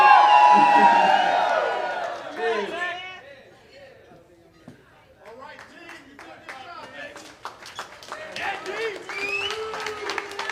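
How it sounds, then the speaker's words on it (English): Wedding reception guests cheer and clap for the best man Pete after his roast-style speech, starting with loud whoops and voices, dipping, then building into scattered and growing applause. "Folks, give Pete a round of applause"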